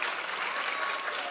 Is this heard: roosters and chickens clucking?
no